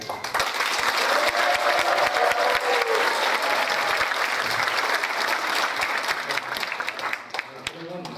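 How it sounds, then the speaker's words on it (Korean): Audience applause at a Korean community association year-end gathering, dense sustained clapping from a crowd filling the room, loud and steady before tapering near the end. "다시 한번 영화 같은 박수로 지지해 주시면"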